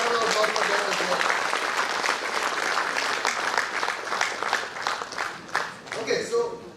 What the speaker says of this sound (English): A big round of applause for them as well.